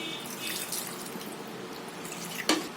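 A glass of water poured into dal for sambar makes a steady, close splashing pour that runs for a few seconds, then a brief sharp clink near the end.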